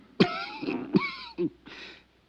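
A few harsh coughs and throat-clearing bursts, close and loud, separated by short pauses.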